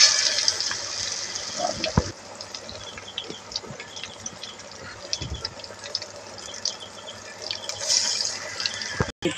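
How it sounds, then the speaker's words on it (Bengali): Bread chops fry in hot oil, giving a continuous sizzling hiss with scattered crackles and pops throughout, close by and moderately loud. "এই যে আমি এবার ভাজতে দিচ্ছি ব্রেড চপ"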